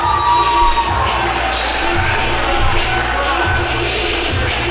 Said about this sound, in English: Fans are cheering him on